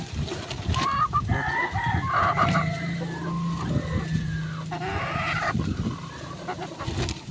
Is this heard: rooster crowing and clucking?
yes